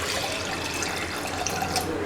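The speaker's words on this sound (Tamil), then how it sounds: "பால் சேர்த்துட்டு 1 கப் தண்ணி ஆட் பண்ணிடுங்க." A cup of water poured into a pot of milk while preparing a traditional herbal cold remedy, giving a continuous splashing, gurgling flow close by with no talk.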